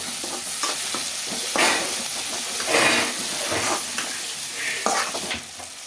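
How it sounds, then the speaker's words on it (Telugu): Chopped tomato pieces frying in a pan give a loud continuous sizzle and hiss, with stirring scrapes surging now and then, close up and without talk. "ఇప్పుడైతే కట్ చేసి పెట్టుకున్న టమాటా ముక్కలు అయితే వేసుకుంటున్నానండి"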